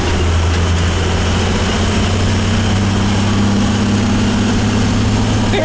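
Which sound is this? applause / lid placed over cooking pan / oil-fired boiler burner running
oil-fired boiler burner running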